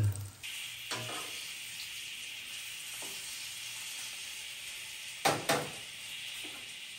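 Tokwa (firm tofu) frying in a pan, giving a faint, steady sizzle with a few louder clatters or stirring knocks near the start and again toward the end.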